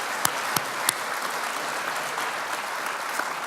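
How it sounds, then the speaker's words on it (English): Steady applause from a large crowd at a university commencement ceremony fills the space, dense clapping with a few sharper claps standing out near the start. "Let's give them a round of applause."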